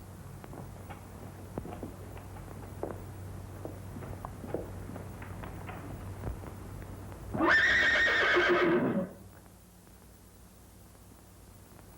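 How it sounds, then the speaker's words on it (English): A horse stands in a library in a 1936 screwball comedy, its scattered hoof clops on the floor leading into one loud, drawn-out whinny, then quiet. "It's in the library where Miss Irene left it."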